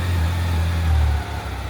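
A 1992 Honda CB750 Nighthawk motorcycle engine idles steadily at close range, a loud, even low rumble with a slight rise in the middle and no talking.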